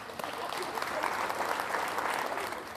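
At a keynote talk, an audience gives a steady round of applause for a volunteer coming on stage, a dense even wash of clapping with faint voices.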